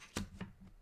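Tarot cards being shuffled and one drawn, a couple of quick, faint papery snaps close by in under a second.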